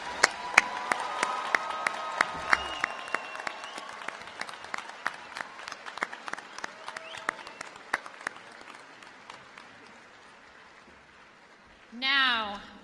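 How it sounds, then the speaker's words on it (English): A commencement ceremony crowd claps steadily for several seconds, the applause gradually thinning out before a short voice cuts in at the end. "Please join me in a round of applause."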